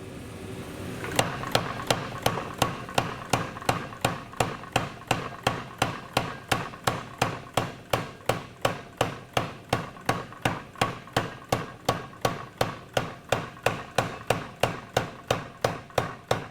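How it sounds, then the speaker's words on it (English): Hammer forging steel for a hunter knife, a long run of evenly spaced ringing strikes about two per second, loud and close, with no talk. "Pretty quick forging there."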